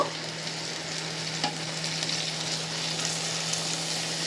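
Tomatoes fry in hot oil in a pan during an egg curry recipe, a close, even sizzle that holds steady with faint stirring scrapes and a low hum beneath.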